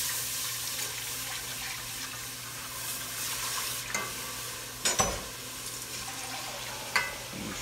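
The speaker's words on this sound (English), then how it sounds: "I'm gonna add my water to this" Water added to a pot of smothered oxtails, a steady splashing and sizzling wash over a cooking hiss, with a few sharp clinks and stirring knocks near the end.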